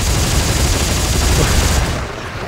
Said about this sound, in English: I could machine gun him to death